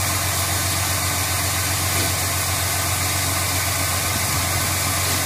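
A cold truck engine runs after a jump start, holding a steady, loud idle with a low, even drone and rattling vibration throughout, no speech.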